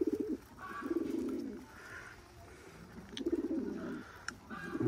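Old local-breed pigeons kept in Khulna coo in repeated low, rolling bursts, close and moderately loud, with brief pauses between calls and faint higher chirps in the background.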